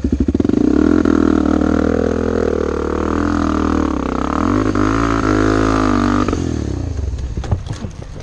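A trail motorcycle on a wet, slippery hillside track revs loudly and close, the engine note swelling and wavering as it strains for grip, then dropping away into clattering and scraping near the end.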